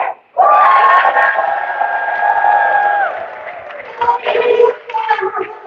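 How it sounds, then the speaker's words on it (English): A large audience at a delegates assembly bursts into loud sustained cheering and screams, holding for several seconds before breaking into scattered shouts and whoops. "Please cheer!"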